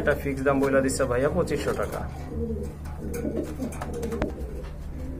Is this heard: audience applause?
no